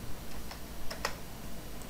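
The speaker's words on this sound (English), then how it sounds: "let me type" Keys clatter on a computer keyboard during Java coding in NetBeans on Windows, a few quick clicks and a short burst of taps against a steady low room hum, no talking.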